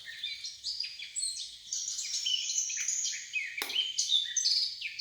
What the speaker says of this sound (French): le doux babil d'une fauvette à tête noire